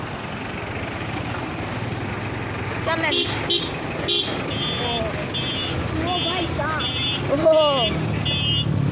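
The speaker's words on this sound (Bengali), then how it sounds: "চলেন আস্তে আস্তে আজকে আমরা বাইকে যাচ্ছি" A motorcycle rides along a rough road out of Dhaka toward Bhulta Gausia, with a steady engine and traffic rumble, car and bus horns tooting repeatedly nearby, and someone talking over the noise.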